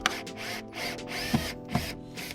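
A power drill driving screws into a cabinet support, whining in short bursts that rise and fall in pitch, with clicks and thuds as screws seat, close up.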